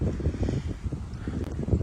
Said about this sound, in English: it's cold and windy, really windy